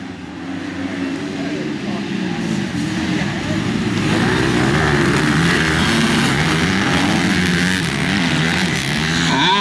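Motocross motorcycles race around a dirt track, including a fuel-injected 2010 Kawasaki, their engines droning and buzzing continuously at a moderate distance, with a commentator's voice running underneath.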